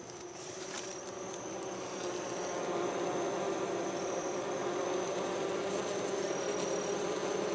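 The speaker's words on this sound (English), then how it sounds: "So right now the bees are primarily just hanging out at the entrance" Honey bees from a packed colony hum steadily at the hive entrance at night, a dense continuous buzz that holds even and close throughout, with no talking.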